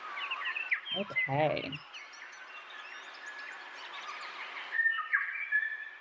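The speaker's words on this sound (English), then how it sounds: "hopefully you can hear a few birds chirping in the background." Faint birds chirp and twitter steadily in the background, with a brief burst of speech and a single spoken word cutting in.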